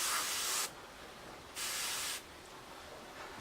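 Airbrush sprays Alclad paint onto a model jet exhaust in two short hissing bursts separated by a quiet pause, close and soft.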